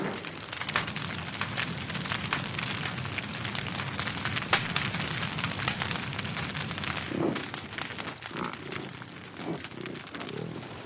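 A prairie fire burns through grassland, giving a steady broadband crackle and roar at moderate level throughout, with denser bursts of snapping.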